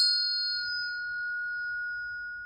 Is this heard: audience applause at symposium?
no